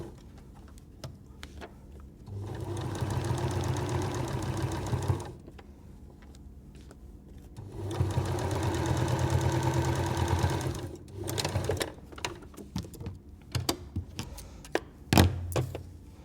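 A sewing machine stitches a quilt block seam for a patchwork flower block, running in two steady whirring bursts of a few seconds each, separated by pauses with light ticks and handling clicks, close and fairly quiet.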